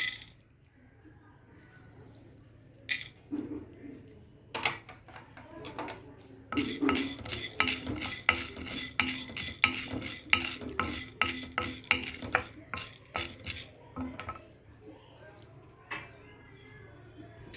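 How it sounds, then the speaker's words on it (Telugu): A spoon scrapes and clinks against a pan while peanuts and chana dal dry-fry, with irregular metallic stirring strokes that grow busy in the middle and a faint sizzle, a voice speaking at times. "కమ్మని వాసన వచ్చేదాకా వేయించండి"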